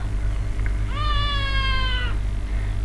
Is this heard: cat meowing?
yes